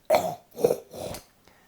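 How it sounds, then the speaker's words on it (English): A dog gives three harsh, throaty coughs in quick succession after dental scale and polish surgery, close by and fairly loud, with a brief pause before a faint trailing sound. "big throaty cough"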